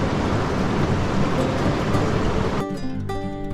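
Fast glacier meltwater pours down from the mountains and rushes beneath boulders into a high mountain lake, a loud, steady, broadband roar close by that drops sharply near the end.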